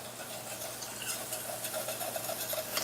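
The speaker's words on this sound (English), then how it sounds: "after you have the garlic chopped, we're going to add that to the pan. Add a little more olive oil. Turn up the heat." Chopped garlic sizzles in olive oil in a hot pan, a soft steady frying crackle with light stirring scrapes, close and fairly quiet.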